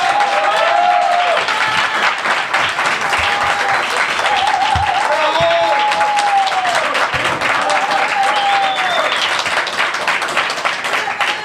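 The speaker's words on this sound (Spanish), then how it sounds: "voy a pedir un fuerte aplauso acá" An audience gives sustained, loud applause to welcome a guest onto a talk programme, with dense, steady clapping that fills the room and scattered voices rising under it for about ten seconds.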